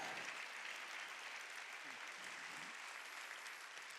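Clapping from a church congregation during a Wednesday worship service, a steady sustained wash of many hands, moderately faint and continuous throughout, with a faint voice briefly audible underneath.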